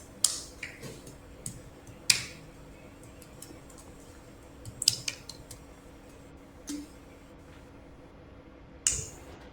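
Scissors make a few sharp, scattered snips over a quiet background, with long pauses between cuts.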